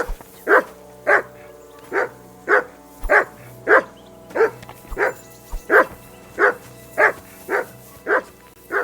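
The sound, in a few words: dog barking, from the video game Kingdom Come: Deliverance II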